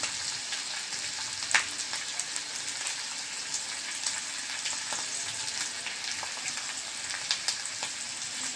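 Potato sabzi with peanut powder and grated fresh coconut is stirred in a hot pan, giving a steady low sizzle broken by scattered soft scraping clicks of the spoon.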